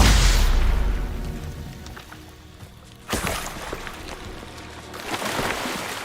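In the Hogwarts Legacy video game, a fiery Confringo spell explosion bursts with a loud boom at the start, then a second sharp blast around the middle followed by rumbling spell effects, with no speech.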